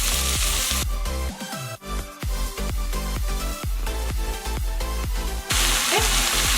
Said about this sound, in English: I'm going to add in the carrots.